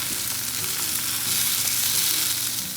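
Goat brain frying in a hot pan, a dense, steady hiss of sizzling oil with faint low crackles throughout, close and unbroken, no speech.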